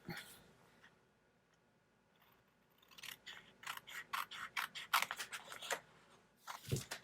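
Scissors cutting out paper, a quiet lead-in followed by a run of crisp, closely spaced snips and blade clicks, close by and without talk.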